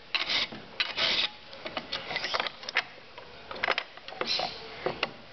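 A metal file rasps across the rounded shoulders of a nut, cutting down toward its base in short uneven scraping strokes, close and fairly loud, with pauses between passes.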